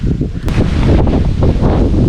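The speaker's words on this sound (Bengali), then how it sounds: "প্রচণ্ড রকমের বাতাস" Strong wind roars and buffets the microphone in a loud, steady rush on the Barabkunda waterfall trail in Sitakunda, with no voices.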